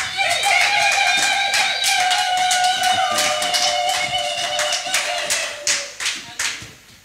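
A church congregation claps together to acclaim the Lord, steady rhythmic handclaps from many people filling the room, thinning into a few scattered final claps, with singing or a voice carrying over them.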